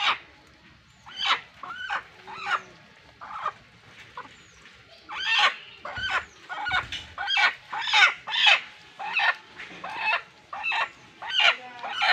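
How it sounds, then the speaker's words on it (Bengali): A large black hen clucks close by in a steady run of sharp, agitated squawks and clucks, with a few soft thumps in between. "মুরগি মুরগি চলে গেল"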